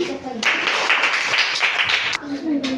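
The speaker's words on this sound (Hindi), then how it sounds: "good, clap for Simpi" A class of children clapping for a classmate, a dense, steady burst of applause lasting about two seconds, with a voice briefly heard before and after.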